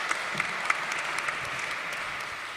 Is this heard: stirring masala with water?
no